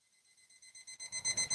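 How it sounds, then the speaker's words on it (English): Kitchen timer beeper going off as water comes to a boil, a rapid train of high electronic beeps that starts faint and grows steadily louder, pulsing about ten times a second. "As soon as it boils and the beeper goes off, I'm going to stop it."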